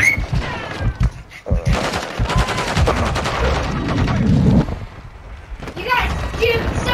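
Rapid video game gunfire rattles in quick bursts under excited, overlapping player voices, with the shots close and loud amid a busy mix of chatter and in-game noise.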